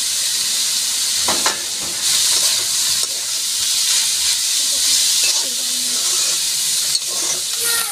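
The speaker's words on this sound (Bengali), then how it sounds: "আমার চিংড়ি মাছটা প্রায় ভাজা হয়ে গেছে" Small shrimp fry in a pan with a little salt and turmeric, giving a steady, close sizzling hiss throughout, broken by a few brief clicks and scrapes of stirring.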